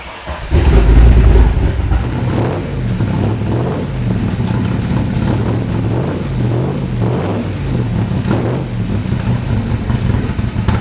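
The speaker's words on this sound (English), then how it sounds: "How about I fire it up for you, because in the world of great sounding cars, these cars just sound spectacular." A 1965 Superformance Cobra V8 cranks and catches, then settles into a loud, close, lumpy idle with rhythmic rises and falls in revs, a deep throaty burble throughout and no talking.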